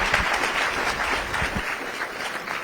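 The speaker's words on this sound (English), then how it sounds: "let's give all of our participants today a great round of applause" A crowd at a public safety summit in Fayetteville gives a short, dense round of applause, steady clapping from many hands throughout.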